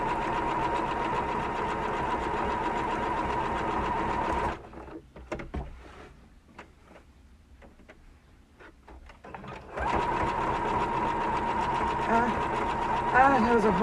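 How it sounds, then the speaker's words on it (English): A sewing machine hums and whirs steadily for several seconds, stops briefly while a voice talks in the quiet gap, then starts running again at full speed. "when the sewing machine is going"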